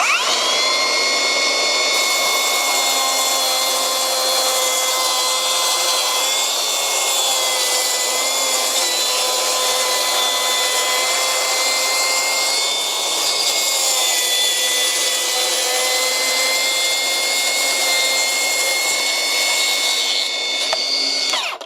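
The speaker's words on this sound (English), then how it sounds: "We just need to line that up on the side and rip up through this bit of sterling board." A Milwaukee track saw rips through sterling board, a loud sustained whining cut that holds steady for over twenty seconds with slight dips in tone as the blade moves along.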